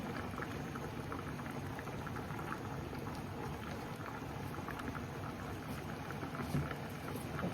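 Bananas boiling in a pot at dawn, a steady dense bubbling and rolling simmer that carries on without a break, close and fairly loud, with no voices.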